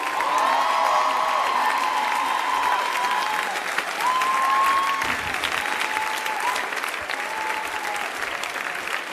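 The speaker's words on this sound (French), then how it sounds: "On les applaudit, faites du bruit." A concert crowd applauds and cheers loudly throughout, with steady clapping under scattered shouts and whoops from the audience.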